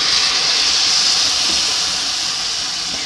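Chicken stock poured into a pan of mushroom risotto, giving a loud, steady steaming hiss that holds at an even level throughout with no talking.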